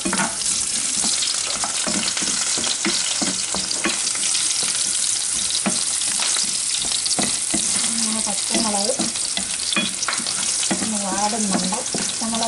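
Green chillies frying in hot oil for Kerala-style mango pickle, a loud continuous sizzle dotted with sharp spluttering pops and crackles throughout.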